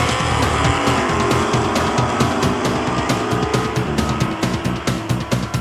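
Roaring engines of cars at a full-throttle outdoor nostalgia drag race, loud and sustained with rapid pulsing exhaust throb and rising revs, close by with no talk.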